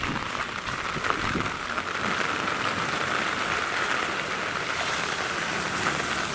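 Heavy rain pouring down steadily, a dense even patter close by that continues without pause, with no voices.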